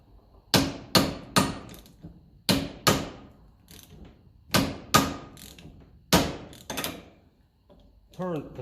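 A hammer tapping a punch on a 1954 Ferguson 20 TEF diesel tractor, about nine sharp metallic strikes in loose pairs, close and ringing, followed by a brief ratchet-like rattle at the end.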